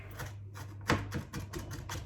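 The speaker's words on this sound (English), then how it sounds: "Some spring onions and just some regular onions, so I just chop everything fine." A knife finely chopping spring onions and regular onions for a herring salad, a quick uneven run of sharp cuts on a board over a low steady hum.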